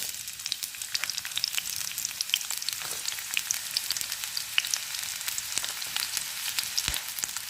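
Sliced onions fry in hot coconut oil, crackling with a steady close sizzle and scattered sharp pops, and a louder pop comes near the end.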